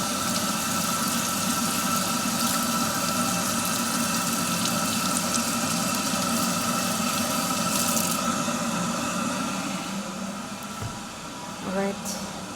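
An apple and an orange rinsed under running tap water, a steady close hiss of flowing water with a person talking over it, tapering near the end.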